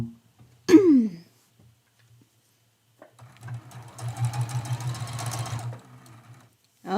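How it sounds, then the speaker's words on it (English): A short clatter, then a sewing machine hums and stitches steadily for a couple of seconds before stopping, close by in a quiet room. "bring it over to the sewing machine"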